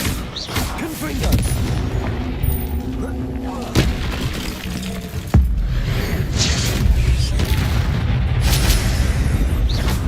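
The Confringo fire spell is cast repeatedly in the video game Hogwarts Legacy, producing a series of loud booming blasts and bursts layered over an ongoing game soundscape.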